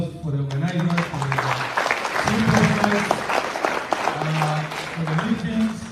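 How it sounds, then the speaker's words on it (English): Applause from the audience at a convention, steady clapping running under a voice speaking over it through most of the stretch. "Therefore, I want us to really give a round of applause for the organizers"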